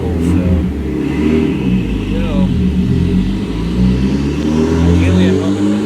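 A Mitsubishi Evo 10 engine with a turbo revs hard on a dyno during a tuning pull, a loud, close, sustained mechanical roar with shifting pitch, and a voice talks over it.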